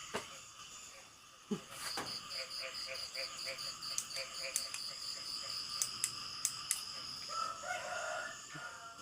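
Frogs croaking near rice paddies in rural Isan, a steady chorus of rapid, raspy calls with clicks and chirps over several seconds, moderately distant, with occasional sharper knocks and a faint hiss.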